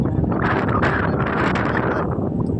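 Strong wind gusting outdoors at a Gujarati matki festival, a loud, steady rushing roar buffeting the microphone throughout, with no talk.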